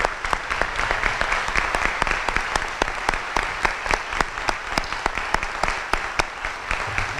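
A crowd at a white coat ceremony applauding steadily, dense clapping with occasional louder individual claps standing out, continuous throughout.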